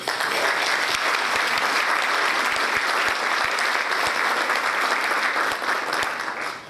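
An audience at an Economic Club luncheon applauds the club staff, a full, steady roar of clapping that stays loud and even, then begins to fade at the very end.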